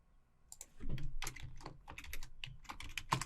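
Quick, close clicks of keys being typed on a computer keyboard to log in to a Server 2022 machine, a brief irregular burst of keystrokes.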